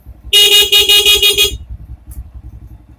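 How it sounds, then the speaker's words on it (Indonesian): An old motorcycle's horn blares for about a second over its idling engine, which keeps puttering steadily after the horn stops. "klakson"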